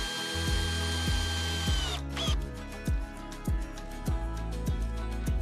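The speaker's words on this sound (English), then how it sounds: "I then drove in some long, I think these are 150mm 6-inch, maybe even 8-inch timber screws" A power drill drives long 150 mm timber screws into a workshop frame, whirring in repeated short bursts with clicking ratchet-like pulses, loud and close, an upward motor sweep near two seconds, no speech.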